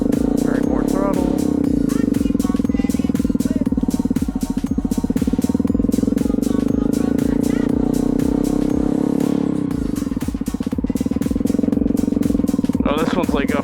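A Honda CRF250L motorcycle engine holds a steady throttle drone close by, with a brief dip near the middle and a rise toward the end, while a rider talks over it in a parking lot.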